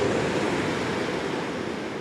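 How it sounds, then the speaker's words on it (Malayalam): Sea waves breaking against rocks at a lagoon, a continuous loud rushing roar of surf with no distinct pauses and no voices. "തിര ഇവിടെ വന്നും തീരുവാ കണ്ടില്ലേ"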